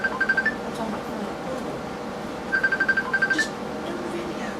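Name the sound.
phone ringing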